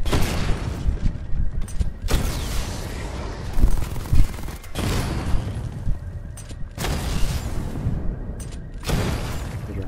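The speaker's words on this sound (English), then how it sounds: "Missile barrage level 1 ready." Batman's missile barrage in Batman: Arkham Knight firing in loud, dense bursts of blasts and booms, several volleys separated by brief gaps over a rumbling game background.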